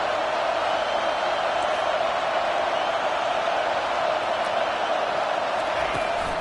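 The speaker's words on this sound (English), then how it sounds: "Decibels rising as the crowd gets behind this defense on 3rd down." Steady, dense roar of a large stadium crowd at a college football game, Tennessee Volunteers playing at LSU, holding loud and continuous throughout with no distinct cheers or announcer voice breaking through.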